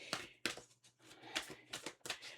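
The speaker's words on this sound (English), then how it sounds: "it's just so loud the way that I actually shuffle" A deck of cards being shuffled loudly, heard as a series of sharp, papery riffling bursts in an irregular rhythm, close up.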